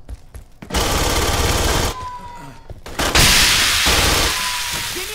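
Automatic weapons fire in the Aliens: Colonial Marines multiplayer game, loud sustained bursts broken by short gaps, with game sound effects and a faint voice at the start.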